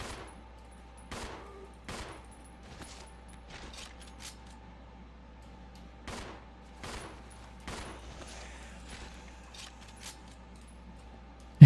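Gunfire in the Resident Evil 0 video game, a series of sharp separate shots spaced a second or two apart against quiet ambient hum, loud and close.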